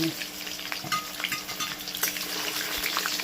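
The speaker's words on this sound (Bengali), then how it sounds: "আলুগুলোকে একটু লাল করে ভেজে নেব" Potato pieces fry in hot oil over a wood fire for a country-style mutton curry, giving a close, even sizzle with bright crackles and no talking.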